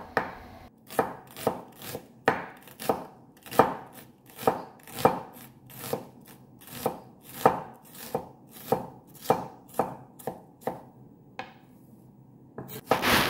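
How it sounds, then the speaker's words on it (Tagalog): A knife chops white onion on a cutting board in a run of about twenty sharp, evenly spaced thumps, close and clear, with no speech over it. "next natin hiwain yung ating white onion"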